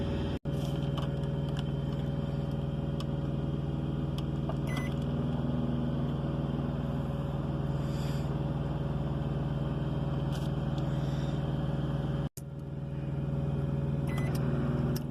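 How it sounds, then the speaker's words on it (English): A microwave oven heating ham, cheese and carrots runs with a steady loud electric hum and low drone, close and unbroken, with faint clicks and two brief cuts in the sound. "Okay, into the microwave."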